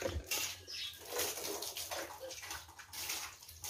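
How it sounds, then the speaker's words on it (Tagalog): Water being splashed and thrown against a wall during cleaning, a continuous wet rushing and sloshing with rhythmic surges, close and fairly loud, no voices. "Sinabligan ng tubig"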